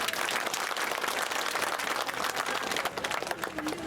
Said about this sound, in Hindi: सही है तो ताली बजाओ।